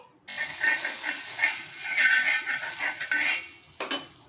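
A buttered sandwich set onto a hot pan over a gas flame brings a sudden bright sizzle that holds steady for several seconds, with a brief clatter of the pan near the end; close and fairly loud.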